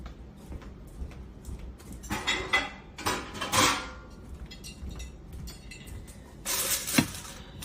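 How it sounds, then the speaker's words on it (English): A lid set onto a casserole dish of chicken and wild rice in a home kitchen, giving a few close glassy clinks and scrapes in separate bursts, then a sharper clatter near the end. "Let me put a lid on this."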